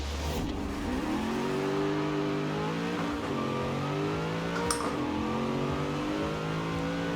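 A car engine in a Forza Horizon 4 drag race, fitted with a 6-speed gearbox, revs loud and steady through rising and falling gear pulls, one continuous roar with no talking.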